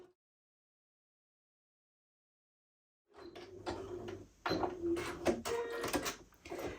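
After three seconds of silence, a sewing machine starts up close by, running a zigzag stitch along a fabric edge with a rapid mechanical whir and clacking in a few uneven bursts.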